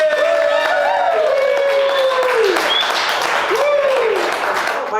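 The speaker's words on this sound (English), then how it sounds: "So we can give her a big, loud cheer." A crowd applauds and cheers at a charity tour event, with steady clapping running the whole way, whoops and raised voices over it, and a few tonal calls rising and falling.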